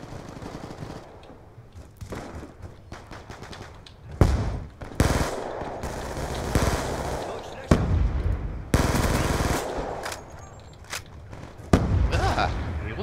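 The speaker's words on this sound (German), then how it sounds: "Schüsse gehört hab." Rapid bursts of gunfire from Call of Duty Black Ops 2 multiplayer crack and rattle in quick volleys, loud and close, with quieter stretches and faint voices between them.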